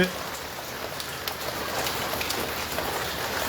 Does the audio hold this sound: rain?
yes